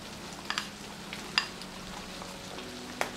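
Meat and potatoes fry and get stirred in a pan, a quiet steady sizzle broken by a few sharp scrapes and clicks of the utensil; no one speaks.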